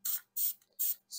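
A spray paint can hisses in four short, even bursts with brief gaps between them, close and clear with no talking, as paint is sprayed onto a space nebula painting.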